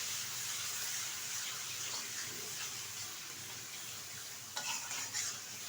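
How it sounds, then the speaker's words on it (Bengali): Spices and ingredients for a young green jackfruit curry with prawns, with a pinch of sugar just added, sauté in a pan with a steady near sizzle and occasional stirring scrapes, briefly louder near the end. "এখন সবগুলো উপকরণ একসাথে ভালোভাবে কষিয়ে নেব।"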